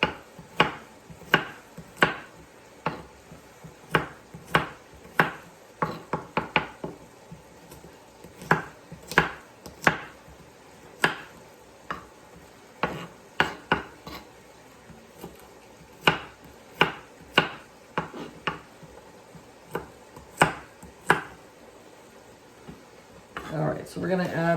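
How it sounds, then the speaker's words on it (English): Knife chopping ingredients for an enchilada casserole on a cutting board: a long run of sharp, irregular chops, some in quick bursts and others spaced apart, close and fairly loud with quiet gaps between strokes. "that's the last of the chopping I'm going to have to do"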